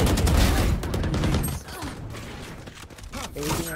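Bursts of rapid gunfire from the Valorant shooter game, loud and dense at first, then thinning into sporadic shots, with a voice talking over the action.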